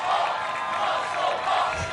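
A dense arena crowd roars and cheers steadily at an American Ninja Warrior All Stars course as a competitor launches across a gap, a loud, continuous wash of voices that swells slightly near the end.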